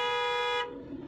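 A car horn gives one loud, steady honk at an intersection at night, lasting about half a second before cutting off to low road noise.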